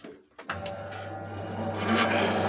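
A repaired woodworking bandsaw starts up after a few clicks and settles into a steady motor hum and rumble, growing slightly louder and running continuously close by.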